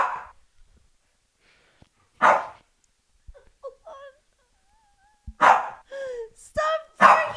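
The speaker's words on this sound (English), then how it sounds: "Stop barking at me." A few short, sharp dog barks in separate bursts, with quieter whining yips between them and long pauses.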